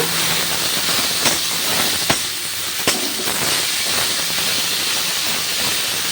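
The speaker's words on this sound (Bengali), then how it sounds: "আমি শাকটা ভাজি করে নেব খুব ভালো করে এটা ভেজে নেব" Jute leaves fry in a pan with onion, making a loud, steady hiss that runs throughout, broken by a few sharp crackles.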